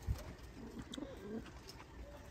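Faint, low cooing from Sialkoti flying pigeons, a few soft throaty calls in a quiet setting with a brief knock at the start.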